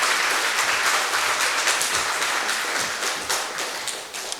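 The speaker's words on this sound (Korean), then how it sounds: "박수로 맞아주시죠." A church congregation breaks into warm, sustained applause, many hands clapping together in a dense, steady patter that slowly tapers off over several seconds.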